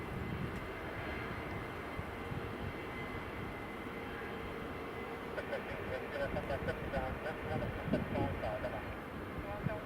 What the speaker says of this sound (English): The next arrival that's coming in is a Pilatus PC-12, and the crew have just asked if it's possible to vacate at Charlie, so they'll be doing a very short field landing